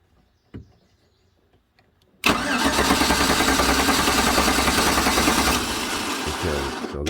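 A 2009 GM truck engine cranks with the fuel pump disabled, a loud, steady, close whirring starter churn that runs on for several seconds without catching, after a single sharp click and some quiet handling noises.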